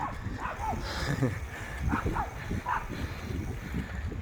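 Several small dogs yap and bark in short, scattered bursts amid a noisy outdoor background along a Miami waterfront, with a few whiny yips mixed in.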